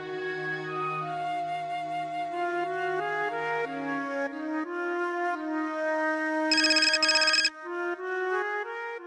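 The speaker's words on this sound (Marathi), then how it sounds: "मी सुहासला फोन करतो" A phone ringtone plays as a call is placed, a melodic electronic tune of stepped tones repeating steadily, broken by a brief buzzy burst near the end, clear and close with no speech.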